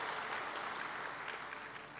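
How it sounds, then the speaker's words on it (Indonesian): Steady, dense applause from a congregation during a church worship service, filling the whole moment evenly with no voices breaking through. "Tepuk tangan untuk Tuhan"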